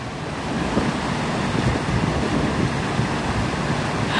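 Steady rush of falling, splashing water from a fountain matched to a screensaver art piece, a continuous broadband wash at even loudness throughout, with no talk.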